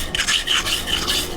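A wire brush scrubs hot forged steel at a blacksmith's forge: steady, harsh scraping strokes close by, in a quick back-and-forth rhythm with no talk.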